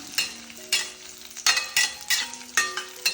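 Beetroot and small shallots sauté in a pan for a sesame chutney, with loud rhythmic scraping strokes of a spatula every half second or so over a soft background sizzle, no voices.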